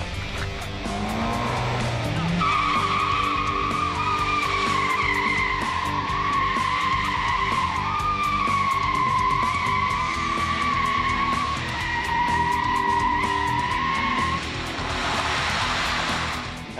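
A turbocharged front-drive Hyundai Veloster spins doughnuts on a closed course, its tires squealing in a loud, sustained screech over a steady engine roar for the whole stretch, with no talk.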